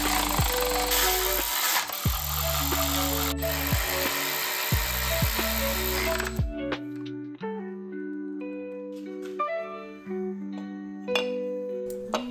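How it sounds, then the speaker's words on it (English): A power drill bores out a defective engine mount bolt hole on a BMW E30 with a K-swap, whining loud and steady for about six seconds, then cutting off to a quieter stretch of scattered tool noise. "I had to bore out the opening."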